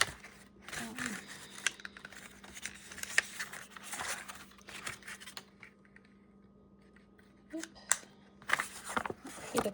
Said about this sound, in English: I'm using a 1-inch punch, and I'm just going to